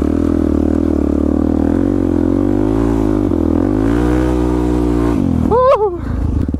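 A supermoto motorcycle engine revving hard while drifting, loud and close, with the pitch climbing and falling in surges and a sharp rev spike near the end.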